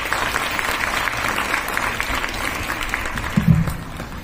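Audience at a school farewell ceremony clapping for Class 12 students before their exams, steady dense applause from a hall crowd, moderately loud and sustained throughout, with a slight swell near the end.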